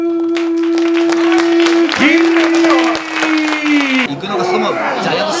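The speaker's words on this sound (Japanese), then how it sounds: "これは大歓声が起きた" Crowd roar at a pro wrestling match, a broad wash of cheering and applause under a sustained loud tone that bends and drops, with commentators talking over it.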